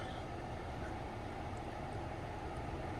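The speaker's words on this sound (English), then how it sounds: "and it's blowing cold air" Air blows steadily on low from the climate control of a 2013 Ford Taurus with a faulty driver-side blend door actuator, a faint, even rumble and hiss heard from inside the car with no talking.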